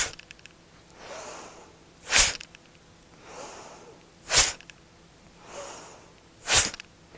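Forceful nasal bellows breathing during a pranayama exercise, three sharp loud exhales through the nose at a steady, even rhythm, with softer inhales between them, close and alone.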